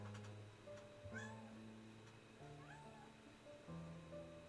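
A pet cat, a female that had been in a scuffle with another cat, meows several times in drawn-out, rising and falling calls close by, with short gaps between them.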